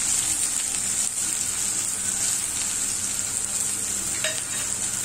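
Onion frying with cumin in hot oil, a dense, steady sizzle that stays loud and even throughout with faint stirring beneath.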